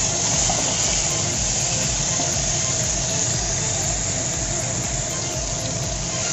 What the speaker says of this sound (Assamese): এতিয়া চিকেনটো ভাজিছোঁ